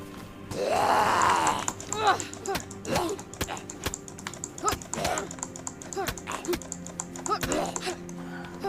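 Computer keyboard keys clatter in irregular bursts of clicks during a DayZ Namalsk session, with a voice talking over parts of the typing.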